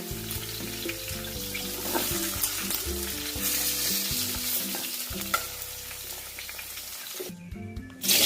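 Vegetables sizzle and crackle in a pan as they're stirred, with soft music playing underneath; the frying cuts off briefly near the end.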